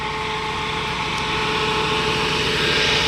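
A small generator-type motor drives a water pump, running with a steady, loud, continuous drone and no breaks.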